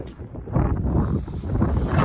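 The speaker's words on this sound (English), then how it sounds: "A little windy up here, so hopefully it's not muffling my audio." Gusty wind on a rooftop deck buffets the microphone in a steady low rumble that swells and eases, with no voices.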